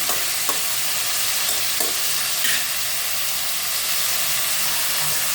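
Vegetables and tomato sautéing in a pan for a lentil-free ground-masala kuzhambu give a steady, close sizzle and hiss that runs through the whole stretch, with a few faint clinks or stirring knocks near the start.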